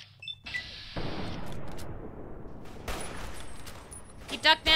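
Gunfire in the video game Fallout: New Vegas, a burst of shots and impacts at moderate level mixed with game noise, while a person talks over it.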